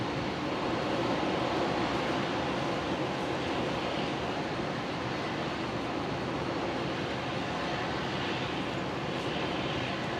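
Qantas Boeing 737 takes off on runway 19 right at Brisbane Airport, bound for Mackay; a continuous broad jet rumble and roar holds steady at moderate distance throughout.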